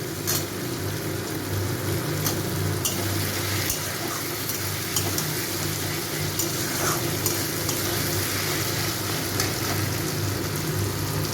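Onion, potato and green chilli frying in a pan for a lote shutki (Bombay duck) dish: a dense, steady sizzle with faint crackles, close and even throughout, with no talk.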